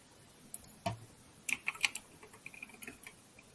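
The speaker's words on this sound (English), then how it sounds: "you got the clickety clack cool kid keyboard. I can hear it all the way over here" Sparse, crisp clicks of keys being pressed on a mechanical keyboard, irregular taps and short bursts, fairly faint and close with no speech.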